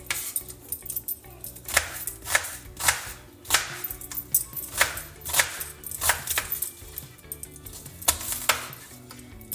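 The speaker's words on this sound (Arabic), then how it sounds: "رح اقطع البصل بهاي الطريقة لاني بحبه يكون ظاهر" A knife chops onion on a cutting board in a kitchen, with steady, crisp, close taps in loose bursts that run the whole time, no talk.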